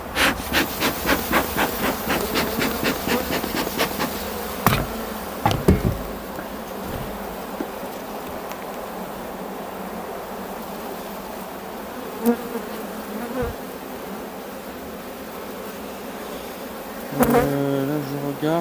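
Honey bees swarm around spring hive colonies in a dense, steady buzz that holds throughout, broken by a few short knocks and clunks from hive handling.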